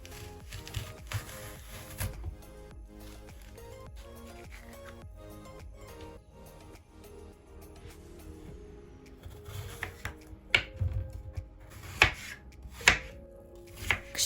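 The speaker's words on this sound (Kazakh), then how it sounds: "кішігірім шаршы етіп тураймыз" Knife chopping peeled, cored apple into small cubes on a cutting board for a sweet American-style apple pie, a run of soft repeated taps that grows sharper and louder toward the end, no talk.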